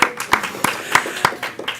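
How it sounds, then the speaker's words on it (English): Scattered hand clapping from a small congregation welcoming a practitioner on a platform, a few distinct claps standing out close and irregular over a short burst. "Let's give her a round of applause."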